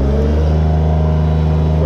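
A Bobcat S70 skid steer engine runs loud and close with its throttle opened, a steady heavy rumble that holds without a break through the short stretch.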